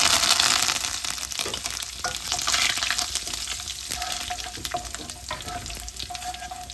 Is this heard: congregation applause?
no